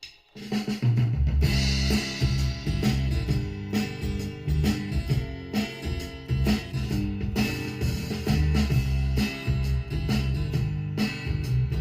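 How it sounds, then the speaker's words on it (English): A live band groove recorded on a 4-track, with steady drums, a low bass line and strummed acoustic guitar, full and evenly balanced, playing continuously without vocals. "3 elements all done live"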